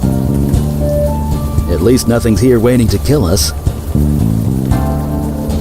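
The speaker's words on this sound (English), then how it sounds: "Still raining." In the video game Unavowed, rain patters steadily as a continuous background hiss while a voice speaks over it in the middle of the clip.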